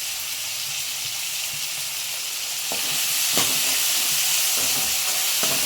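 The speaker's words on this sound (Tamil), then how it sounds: "இது கூட இப்போ கொஞ்சம் உப்பு சேர்த்து வதக்குங்க" Onion and tomato with salt sauté in a pan with a steady, bright sizzle and hiss throughout, joined by occasional soft stirring scrapes and clicks.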